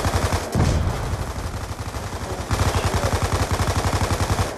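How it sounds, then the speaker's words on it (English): Rapid, near-continuous gunfire from Call of Duty Black Ops 2 Zombies, loud bursts of automatic shots with a brief pause before resuming in a steady rattling rhythm. "All I heard is gunshots going off."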